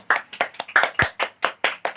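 Rhythmic group clapping in a classroom microteaching session: about a dozen loud, evenly spaced claps in a steady beat, close and clear, with no talking over them.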